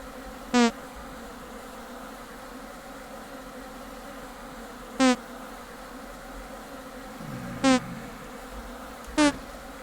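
Bees in the Vintage Story video game, four short buzzing bursts spaced several seconds apart over a steady low background hum, clear and close.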